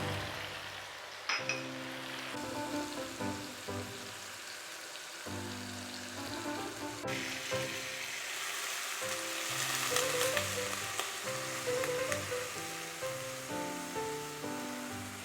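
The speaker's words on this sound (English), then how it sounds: "I'm going to add the cumin." Cumin seeds hit hot oil in a pan and fry with a steady sizzle and crackle, close by, while music plays underneath throughout.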